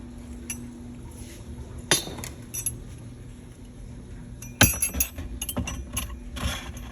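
A glass bottle with a metal spoon stuck in its opening is set into a kitchen fridge, giving two sharp clinks and a cluster of lighter rattling clinks over a low fridge hum.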